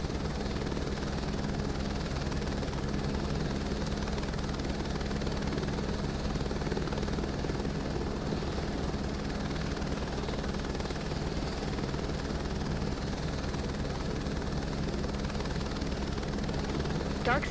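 Helicopter taking off from a helipad in Microsoft Flight Simulator 2024, a constant loud rotor and turbine drone with a steady low throb and high whine, unbroken throughout, with radio-style talk at times.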